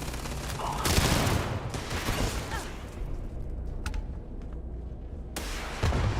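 Explosive gunshots fire in a Starfield sci-fi shooter battle: a loud burst near one second, then scattered crackling shots and rumbling blasts over a steady combat din, with a sharp report again near the end.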